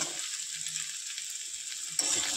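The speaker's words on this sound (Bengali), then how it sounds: "কুমড়ো কেটে রেখেছিলাম, এটা দিয়ে দিলাম, হালকাভাবে নেড়ে নিব" Cut pumpkin and potato frying in a pan with a steady high hiss of sizzling oil and faint low stirring scrapes, no voices, the sizzle briefly brightening near the end.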